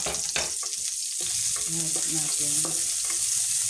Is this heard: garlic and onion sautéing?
yes